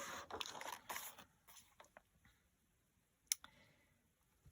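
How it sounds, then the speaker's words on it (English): Scissors snip through paper pages for a Victorian Christmas journal, a few quick crisp cuts and clicks early on, then faint scattered ticks and one sharp snip later, close and quiet with no talk. "I'm going to cut it here"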